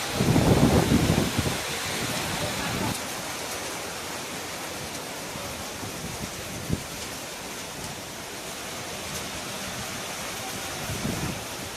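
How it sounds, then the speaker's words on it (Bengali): Steady rain falls at a railway station platform, a broad even hiss with a louder gust of noise at the start and a few faint knocks, continuous and without talking. "বৃষ্টির মধ্যে কোথাও বেরিয়ে লাভ নেই, ভালোই বৃষ্টি হচ্ছে।"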